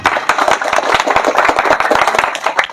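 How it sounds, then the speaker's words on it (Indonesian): An audience claps together at a pencak silat ceremony welcoming new IKSPI Kerasakti members: a dense, steady patter of many hands, fairly loud and close, lasting throughout without a break. "Tepuk tangan dulu"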